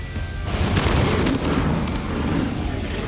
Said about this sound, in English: An airstrike has been called.